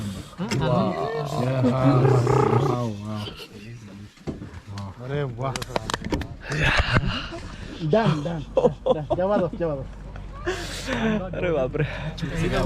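A tiger roars during a jungle safari in Tadoba, deep rumbling calls that rise and fall amid excited, overlapping voices of people watching from close by.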